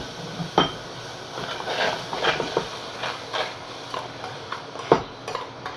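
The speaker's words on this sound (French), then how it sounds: "je mets les fraises dans la casserole avec du sucre et on va remuer sans arrêt" Strawberries and sugar stirred in a saucepan, a series of close clinks and scrapes of a utensil against the pan at an uneven rhythm, with softer stirring rustles between them.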